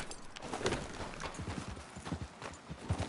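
Horse hooves clip-clopping in the video game Red Dead Redemption 2, a steady galloping rhythm of close thuds continuing throughout.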